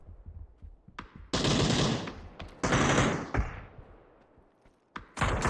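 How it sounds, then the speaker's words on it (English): Bursts of automatic gunfire from the battle royale game PUBG during a pro scrim match, with loud, dense volleys separated by short pauses and a few single thumping shots. "it's actually Plan B shooting at him"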